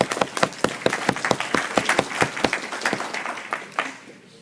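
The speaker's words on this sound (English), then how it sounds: "You guys should clap for Legal Shield because of that." Audience at a Legal Shield training event applauds in a brisk, rhythmic round of clapping that gradually fades out over a few seconds.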